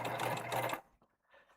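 A sewing machine stitches a tote bag in a quick steady whirring run of under a second, then stops, leaving faint handling noises.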